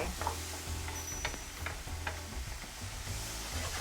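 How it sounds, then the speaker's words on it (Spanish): Onion and garlic caramelize in a pan with partly roasted corn for a Peruvian pastel de choclo, giving a steady close sizzle broken by repeated scraping stirs, with no one speaking. "La cebolla está caramelizándose un poquito aquí con el ajo que le puse"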